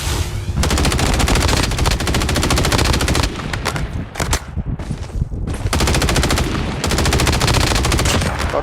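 Loud, rapid machine-gun fire from a shooter video game, sustained bursts with brief pauses between them, up close and dominating the mix.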